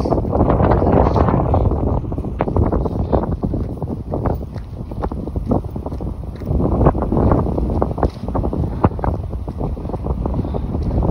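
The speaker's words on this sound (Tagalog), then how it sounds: "So dito sa Lethbridge masyadong malakas yung hangin." Strong wind in Lethbridge buffets the microphone continuously, a loud roaring rumble with gusty surges and no pauses.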